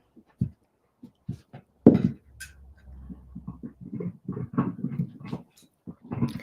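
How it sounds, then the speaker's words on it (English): A dog playing excitedly indoors makes scattered soft thumps, scuffles and brief rustles, fairly faint, with a low hum running underneath for a stretch. "Sorry if you can hear my dog playing."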